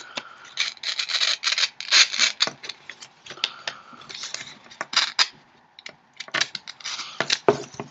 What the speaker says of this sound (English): I just use scissors for the best result so it doesn't look sloppy at the very end.